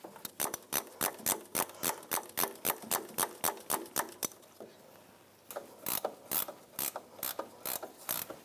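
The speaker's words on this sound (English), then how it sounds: "I can get a ratchet wrench in there and really spin that out" Ratchet wrench spinning a bolt loose under a 1998-2011 Ford Ranger 3.0L V6 during oil pan removal: rapid, loud clicking bursts in a steady rhythm, a brief pause, then more ratcheting runs.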